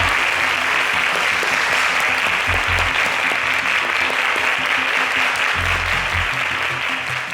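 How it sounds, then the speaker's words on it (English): A studio audience at a quiz show applauds loudly and steadily, a dense wash of clapping that holds at full strength from start to finish. "A round of applause for Ugonna."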